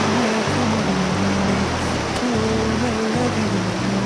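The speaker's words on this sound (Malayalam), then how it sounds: "നല്ല ഒഴുക്കാണ് ഇവിടെ" A strong current at a waterfall in Ponkunnam rushes constantly nearby in a dense, unbroken roar, with a low engine-like hum running underneath.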